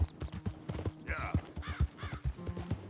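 Horses at a camp in the video game Red Dead Redemption 2, with hoof clip-clops, snorts and a short whinny up close, mixed with creaking and mechanical clatter.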